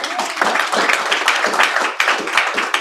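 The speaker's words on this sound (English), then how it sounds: "please give him a round of applause" Audience applause for Roger Hill, a dense, steady wash of many hands clapping close by that runs the whole time without easing off.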